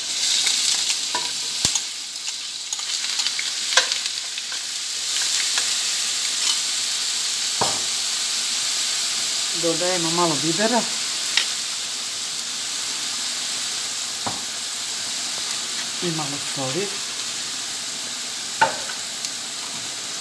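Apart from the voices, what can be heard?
chopped onion frying in oil in a pan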